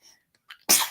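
A single close, loud sneeze bursts out after a brief intake of breath in a quiet room.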